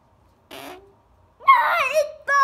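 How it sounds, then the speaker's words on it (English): A toy potty lets out a short farting noise, then a child's excited high-pitched voice follows in two bursts of talk and squeals. "Ah, it farts! Oh my goodness! The potty farts!"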